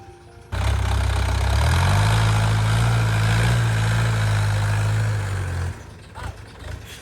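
A four-wheel-drive truck's engine revs up and holds a heavy, steady low drone for about five seconds as it drives up a slope, then drops back to a quieter idle with faint background noise.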